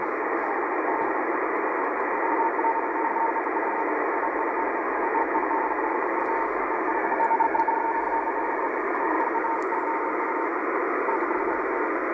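A continuous band of shortwave radio noise carries a steady radio teletype data signal at 5120 kHz through hiss and static, unbroken throughout.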